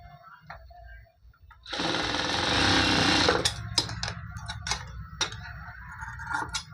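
A sewing machine stitches two blouse cloth pieces together, running in one loud steady burst of about two seconds, followed by lighter intermittent clicks and handling taps.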